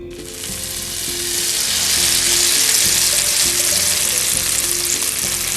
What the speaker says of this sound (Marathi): फोडणी झालेली आपली आता भाजी टाकायला भाजी टाकून घेऊया आपण